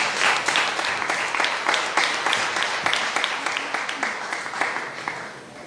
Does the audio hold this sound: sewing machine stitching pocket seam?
no